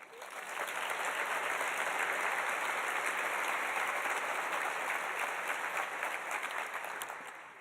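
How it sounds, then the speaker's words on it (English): Sustained applause from an audience at a physical therapy white coat ceremony, a steady broad clatter of many hands that swells and then fades over several seconds. "A round of applause."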